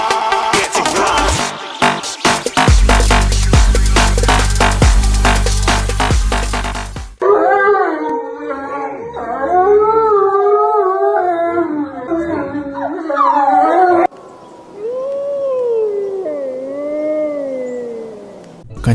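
Wolves howl in long, rising and falling overlapping cries after loud rhythmic music cuts out. The howls are clear and close, with a second group of smoother, wavering howls near the end.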